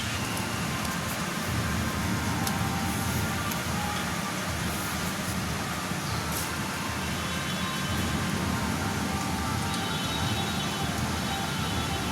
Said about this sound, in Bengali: সকাল থেকে সেই বৃষ্টি পড়েই যাচ্ছে ভাল লাগছে না এরকম বৃষ্টি